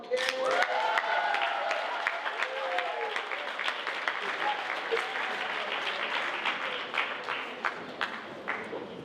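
An audience at an awards program applauds its award recipients: a dense round of clapping sustained for several seconds, with individual claps standing out sharply and a few voices calling out at the start before slowly tapering.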